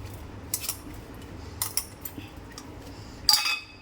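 Nigella seeds, cumin and chili flakes worked into urad dal and rice chakli dough, heard as a few light clinks and scrapes of a utensil against a bowl, spaced apart and fairly quiet.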